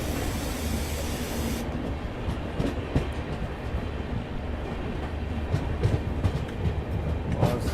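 The Bhopal Shatabdi Express rumbles loudly while switching tracks into platform 1, with continuous wheel roar and scattered rail clatter throughout.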